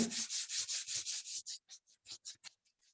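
Close, rhythmic rasping strokes of sandpaper on wood, brisk and even at first, then quicker and lighter before trailing off.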